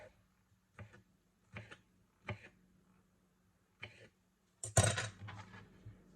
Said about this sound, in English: I'm going to take an artichoke heart, and I'm going to chop it pretty thinly.